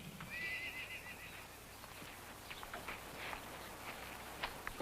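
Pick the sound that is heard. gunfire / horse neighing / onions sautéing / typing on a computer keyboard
horse neighing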